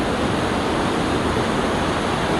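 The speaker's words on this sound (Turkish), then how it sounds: "Ve şelaleden fışkırırcasına bu nehre akan su" Water gushes from a waterfall into the river in Switzerland's Aareschlucht gorge, making a thick, steady, close roar that goes on unbroken with no talking.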